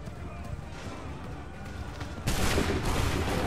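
Musket volley in the video game Assassin's Creed III at the battle of Lexington and Concord. A sudden loud crackling burst of fire breaks out after a rumbling lull and continues, dense and close.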